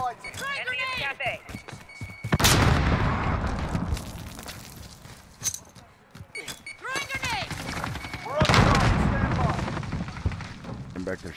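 Gunfire and explosions in a Call of Duty Modern Warfare match, with bursts of shots and a couple of loud blasts mixed under frequent game voice callouts.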